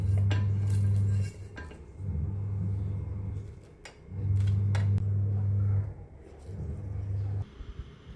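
Fried fish pieces being moved from a pan into another dish, with repeated metallic scrapes and clinks of utensil against cookware in several bursts, close and fairly loud, no talk.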